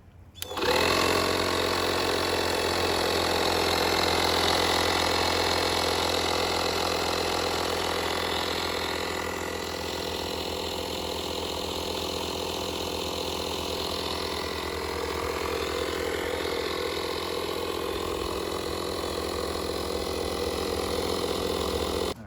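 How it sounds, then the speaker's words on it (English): A small DC-powered air compressor runs continuously while inflating a tire, a loud, steady mechanical buzz with rapid piston chatter, starting abruptly and holding on alone without talk. "Looks like I got to plug in the air compressor, put a little air in the tire."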